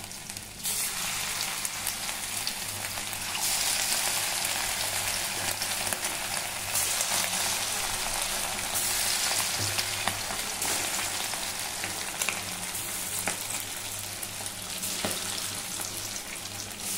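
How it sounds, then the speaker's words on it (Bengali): Marinated chicken pieces frying in oil, a continuous dense sizzle heard up close and fairly loud throughout, with small shifts in intensity and faint stirring, and no talking. "আমরা তেলের মধ্যে ভেজে নেব"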